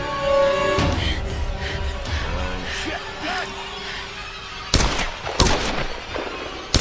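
Enemies shooting guns in the video game Tomb Raider, a few sharp loud gunshot cracks near the end after a stretch of game ambience and music.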